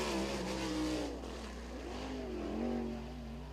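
A sprint race car, the 55K, runs a time-trial lap at Lincoln Speedway, its engine a loud, steady roar that rises and falls in pitch as it circles the track, with no voices over it.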